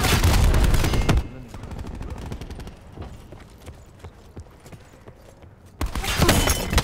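Rapid bursts of weapon fire from a grenade-launcher-style War Machine in Call of Duty: Black Ops 4, loud at the start and end with quieter clicking and shots between.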